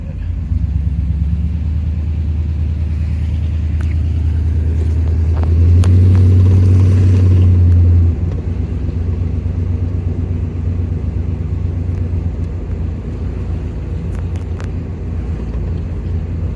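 A revived 1967 Chevy, abandoned for fifteen years, drives along with a steady low engine rumble and road noise that swells briefly as it accelerates before settling back to a smooth cruise.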